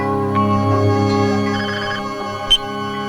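A telephone ringtone sounds in a Bollywood film scene, a steady electronic tone sustained loud and close for about three seconds, ending with a brief click.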